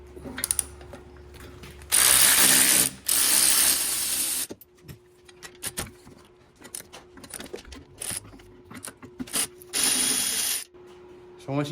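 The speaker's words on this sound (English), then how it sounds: "finally, we'll get these caliper bolts. They're 18mm top and bottom." A ratchet works loose the 18mm top and bottom brake caliper bolts on an E90 BMW M3, with long bursts of rapid clicking pawl alternating with quieter handling clunks, close and loud.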